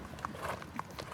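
Escaped horses' hooves clip-clop faintly in a few quick, irregular knocks, heard at a distance over low background noise.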